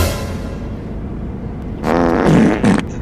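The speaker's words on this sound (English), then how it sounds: "You just fart again?" A loud, low, sputtering fart bursts out after a second of rumbly background noise, with a short second blast just after.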